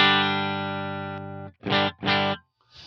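Clean electric guitar tone through an HX Stomp with the bright switch engaged: a sustained ringing chord decays, followed by two short bright strums and a faint third, close and alone.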